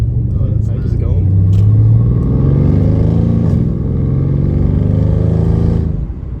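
A Mercedes C63s AMG with a rebuilt engine and a lit engine light, flagged for an intake cam fault, revs while driving: a loud, steady low engine drone that swells and holds for several seconds, with people talking over it inside the car.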